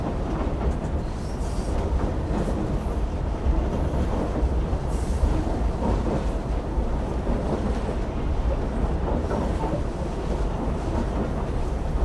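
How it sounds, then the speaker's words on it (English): A noisy train in the video game Assassin's Creed Syndicate, heard as a steady rumbling roll with rattling and wind-like rush, continuous and moderately loud throughout. "Well, it's a noisy train."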